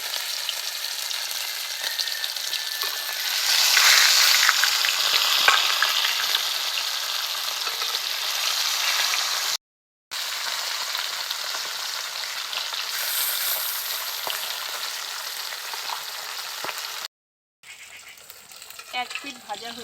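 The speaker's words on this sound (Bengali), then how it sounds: "এবার তেলের মধ্যে মাছগুলো দিয়ে দেব।" Bata fish fry in hot salted oil in a pan, a steady, close crackling sizzle that swells and eases, broken by two brief silent cuts.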